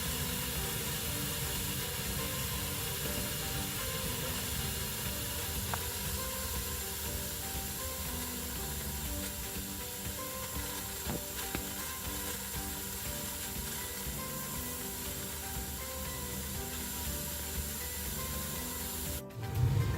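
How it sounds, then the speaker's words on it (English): A Stanley Steamer burner running on pilot fuel gives off a steady, broadband hiss and roar that holds even and continuous, with a brief louder disturbance at the very end. "So right now we're burning pilot fuel, and I'm going to let this burn for just a few seconds to make sure we have a good fire established"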